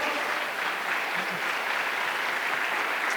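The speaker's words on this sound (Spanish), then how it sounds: "le das un fuerte aplauso al Señor" Church congregation applauding during a Spanish-language service on offerings: a steady, full wash of many hands clapping together, loud and sustained with no pauses or talk over it.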